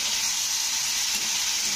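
Bottle gourd stalks and potatoes stir-fry in a pan, producing a steady, close hiss of sizzling oil that holds without break and with no talk.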